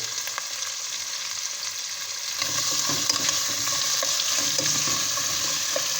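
Whole spices (black pepper, cloves and bay leaves) fry in hot oil, a quieter crackle that jumps to a fuller, steady sizzle partway through, with faint stirring clinks.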